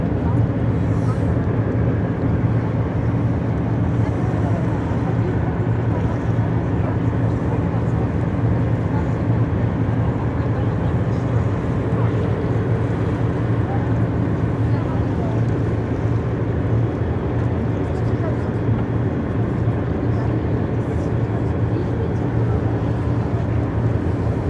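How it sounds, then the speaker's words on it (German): Airplane passing overhead at a harbour during a sailing festival in Rostock, a loud, sustained broadband roar with wind buffeting that holds steady throughout. "Ein Flugzeug war das wohl, was wir gehört"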